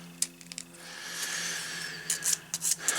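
Steady rasping friction of sandpaper rubbed by hand back and forth against wooden clock parts, close and fairly quiet, with a few sharp clicks and scrapes.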